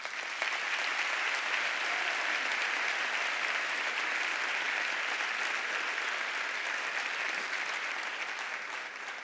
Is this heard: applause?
yes